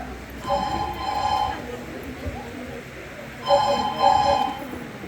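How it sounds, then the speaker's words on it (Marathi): A telephone bell rings in two bursts of repeated trilling, near and clear, inside a Marathi family stage drama, with room noise and faint voices in between. "कधी कधी एकाच वेळी दोन्ही फोन वाजू लागतात."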